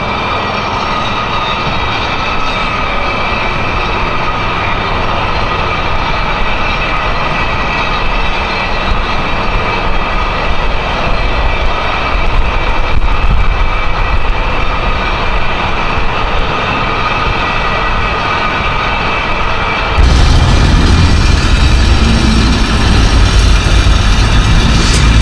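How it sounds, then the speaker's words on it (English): Heavy machinery drives metal sheet piling into a canal bank near a lock, a loud continuous mechanical roar and rumble that persists throughout, with a sharp change in tone toward the end. "Using a pile driver to put metal sheets down to reinforce the"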